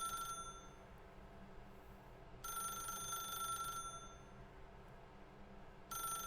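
A telephone rings in The Stanley Parable, its bursts of bright repeating ring separated by pauses, sounding over a steady low game ambience with no one talking.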